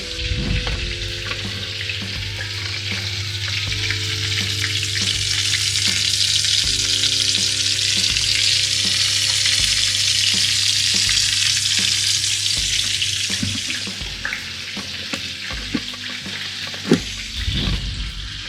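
Stuffed lamb loin sears in a frying pan, sending out a loud, steady sizzle with crackling spatters throughout and occasional clinks of a utensil, with no voices.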